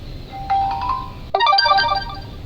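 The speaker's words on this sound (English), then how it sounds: "Excuse the notifications, I've got quite a few devices here." Two electronic device notification chimes sound in quick succession, a short bright tone followed by a longer, busier melodic alert, both close and clear over a quiet room with several devices around.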